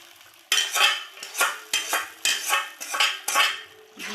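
Chicken kosha being stirred in a metal pan during home cooking, with about seven rhythmic scraping strokes of a spoon against the pan, close and fairly loud, and no voices.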